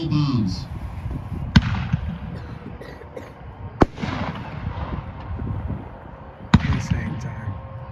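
Large aerial fireworks shells at an American fireworks demo day, three sharp distant booms spaced a couple of seconds apart over crackling and a steady outdoor background.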